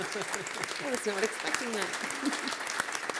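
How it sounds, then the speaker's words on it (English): An audience at an economic summit applauds, scattered claps continuing steadily at moderate distance while someone speaks over them. "They're applauding."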